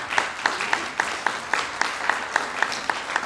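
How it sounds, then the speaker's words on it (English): Brief applause from an audience at a healthcare conference in Oregon, with one prominent rhythmic clapper standing out at regular beats over the softer crowd clapping. "We have Amy Fellows, keep on clapping."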